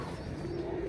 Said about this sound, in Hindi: ये जो जुरे कबूतर है ये भी कसूर की जो आप कह लें कि पुरानी जो ब्रीड्स हैं उनमें से एक है जी